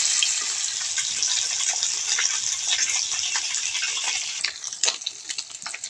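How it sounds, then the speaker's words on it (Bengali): Catla fish frying in mustard oil in a hot wok, a constant close hissing sizzle with scattered crackles that grow more irregular and spattery toward the end. "কড়াইতে মাছগুলো দিয়ে ভালো করে ভেজে নেব।"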